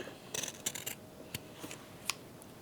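Scissors snipping fabric while trimming a trouser waistband, several quiet, brief, irregular cuts close by against a faint hushed background.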